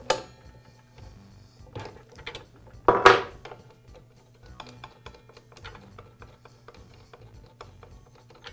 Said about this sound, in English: Now I'll use the wrench that came with the saw to remove the blade.